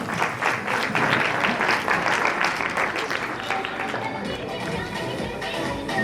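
Wedding guests applauding in a large room, a dense wash of clapping that gradually softens, with voices and crowd murmur mixed in beneath it.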